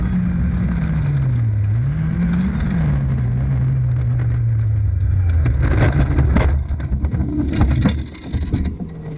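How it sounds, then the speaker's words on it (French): Rally car at the 2019 Pacific Forest Rally skidding off in the snow, its loud engine rising and falling in pitch under a steady spray of noise, with sharper crunching toward the end. "un petit dérapage dans la neige les envoie dans le décor."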